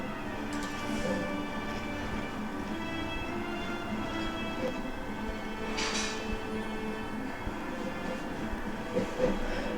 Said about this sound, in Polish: Dajcie mi zrobić kolej, please.